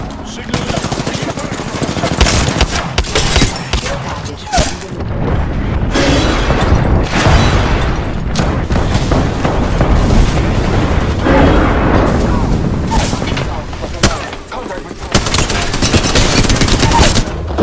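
Heavy Apex Legends firefight: sustained machine-gun bursts and single shots, loud and close, with booming impacts and explosions crowding nearly eighteen seconds, broken by brief lulls, voices shouting underneath.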